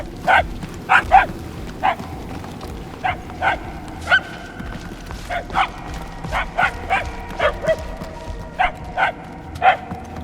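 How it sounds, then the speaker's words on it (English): Dogs barking in the Guardians of the Galaxy video game, a scattered series of sharp yips and barks at moderate distance over a low rumbling ambience, coming in irregular clusters. "The barks are getting louder at least."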